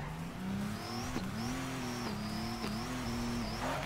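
Roughly 1,000-horsepower race car in the drift game Torque Drift, its engine revving hard and climbing through gears with brief shift breaks, loud and close alongside tire noise.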